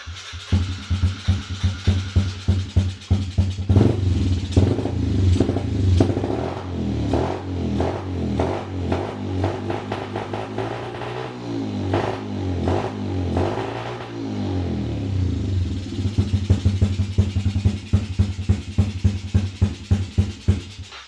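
A Yamaha TTR90E dirt bike's small engine sputters and catches after several tries, then revs up and down repeatedly before settling into a rough, pulsing idle nearby.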